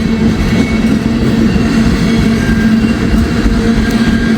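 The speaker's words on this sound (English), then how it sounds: "This is an empty ethanol train." An empty ethanol tank-car freight train rolls steadily past, heading north, with a loud, continuous rumble of wheels on rail and a faint steady hum. No one speaks.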